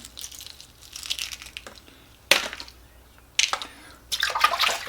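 A boiled egg being peeled at a sink gives close crinkly crackling and tearing of shell in several bursts, some with a watery splash character, with brief quiet gaps between them.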